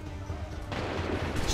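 A musket volley in the video game Assassin's Creed 3, a heavy burst of overlapping shots swelling into a broad, rumbling blast over a low background drone.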